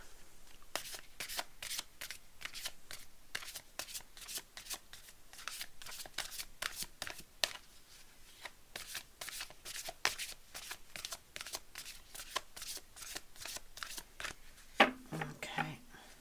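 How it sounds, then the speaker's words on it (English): Oracle card decks, an EarthCraft deck and a Shamanic healing deck, being shuffled by hand: a long run of quick, crisp riffling flicks in an even rhythm, close and clear, ending in a slightly louder burst. "I'm going to pull a card from the EarthCraft deck and then some from the Shamanic healing deck."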